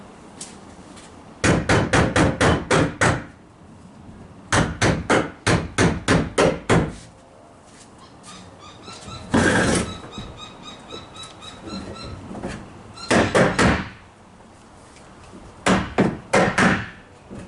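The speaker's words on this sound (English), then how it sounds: "Now we can go ahead and hammer them in." Bursts of sharp hammer strikes driving pins into a plastic garbage can lid, in quick rhythmic runs, several groups of rapid knocks separated by short pauses, close and loud.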